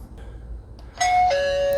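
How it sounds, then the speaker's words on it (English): An EZVIZ video doorbell chime plays a clear two-note ding-dong, loud and close, after a moment of near silence. "Press the doorbell."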